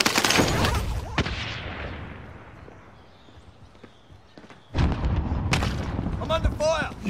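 Gunfire in Warzone Caldera comes as loud close shots and blasts. A quieter stretch with a few distant reports follows, then a second heavy burst of fire, with a voice talking over part of it.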